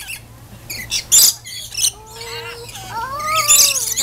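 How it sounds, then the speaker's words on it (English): Lorikeets squawking and chirping in several shrill, overlapping calls, with a few sharp bursts and rising whistled notes, close and fairly loud against faint background voices. "You're afraid of a couple of birds?"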